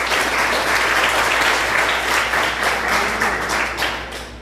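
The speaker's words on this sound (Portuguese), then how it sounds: "Você pode aplaudir Jesus por isso?" Sustained applause from a church congregation during a sermon, steady and full throughout, a dense wash of clapping with no voices standing out.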